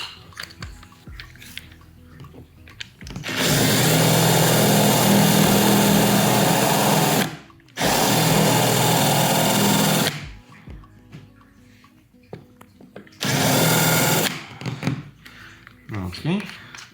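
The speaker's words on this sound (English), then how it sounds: "we're gonna drill a little hole for the head of the screw" A power drill with a concrete bit whines loudly in three bursts into concrete, two long and one shorter, with quiet pauses and faint movement sounds between them.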